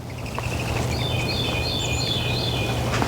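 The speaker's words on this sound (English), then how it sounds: "You can hear the bird song right now." Small birds sing in a sunny suburban garden in late February, with a few distant, clear repeated whistling phrases over a steady low hum of background noise.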